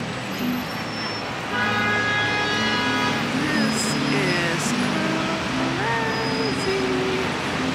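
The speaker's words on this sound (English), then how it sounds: "Traffic in Jerusalem." City street traffic in Jerusalem, cars and buses rumbling past with several horn toots and tonal engine whines, while people chat nearby.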